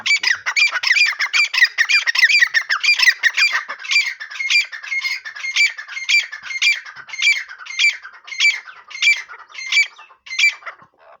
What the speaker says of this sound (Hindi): बड़े ज़बरदस्त, बड़े खूबसूरत तितरों की आवाज़ है।